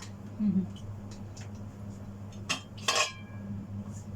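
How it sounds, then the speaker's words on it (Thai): Metal pot lids are set down and closed in a kitchen, giving a few sharp clinks and clanks, the loudest near the end. Someone speaks faintly, and a steady low appliance hum runs underneath. "ฝาหม้อที่เหลือก็ปิดเอาไว้ก่อนเนาะ"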